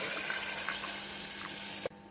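Boiled chickpea water pouring into a pot of meat for chana gosht, a continuous splashing gush of liquid that runs steadily and then cuts off abruptly near the end.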